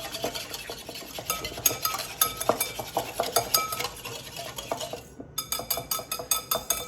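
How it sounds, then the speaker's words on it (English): A utensil mixes seasonings in a bowl with rapid, close scraping and clinking strokes against the sides, busy and steady throughout, and no talking. "So give this a good mix. Break all that down, make sure all them seasonings are"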